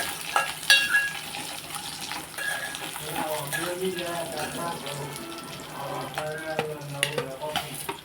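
Ingredients for dosa chutney, including peanuts, fry in a pan with a steady sizzle and occasional stirring scrapes, continuous at moderate loudness, with a voice talking over it.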